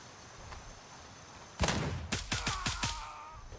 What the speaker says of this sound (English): who's doing the shooting right there?